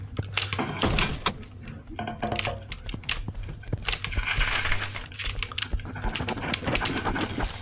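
Coins jingle as they are picked up in the video game Final Station, a quick run of bright clinks and clicks mixed with other item and menu noises, fairly close and busy.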